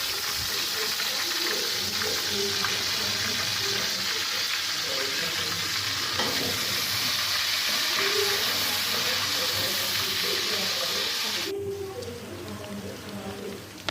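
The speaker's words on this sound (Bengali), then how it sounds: "চুলোয় তেল গরম করে দিয়ে তেজপাতা ছেড়ে দেওয়া হচ্ছে" Bay leaves sizzle in hot oil on a stove, starting a katla fish curry with tomato. The loud, dense frying hiss runs steadily and thins out slightly near the end.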